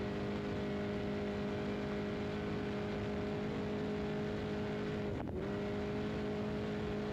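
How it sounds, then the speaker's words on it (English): An off-road race vehicle on the NORRA Baja rally between Loreto and La Paz runs at over 100 mph, its engine a steady sustained drone with a constant whine over broadband road roar, briefly dipping near the end. "Over 100 miles an hour, so evidently that motor is running fine"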